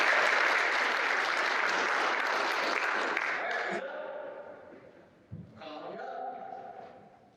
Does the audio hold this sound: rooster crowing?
no